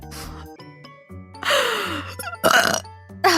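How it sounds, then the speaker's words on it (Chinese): Several croaky burps from a vtuber, with a longer drawn-out belch in the middle and shorter ones around it, close and fairly loud, with faint tinkling sounds in between. "打个嗝。"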